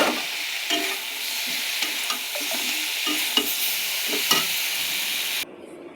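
Fish curry being stirred and sautéed in a pan, a steady sizzle with repeated scraping strokes of the spoon at close range, no talking, ending abruptly in quieter background.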